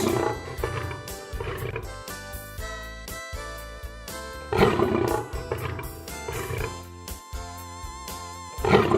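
Lion roars rumble repeatedly with harsh growling bursts over a busy, layered background, loud and close, with several surges of intensity.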